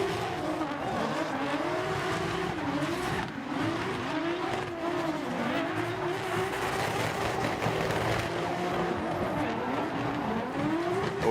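A drift car revving hard through a competition run at Ebisu Circuit West Course in Fukushima, the engine note rising and falling continuously with tire noise, loud and sustained throughout, faint voices in the background.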